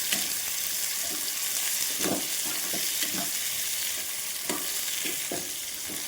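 Onion and tomato fry in a pan for mushroom masala, a steady close sizzle with several soft stirring scrapes of a spoon, no one talking.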